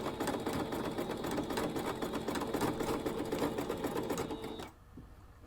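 A sewing machine runs continuously while stitching across the folded edge of a towel for a kitchen scarf, a fast even mechanical chatter close by that stops abruptly near the end.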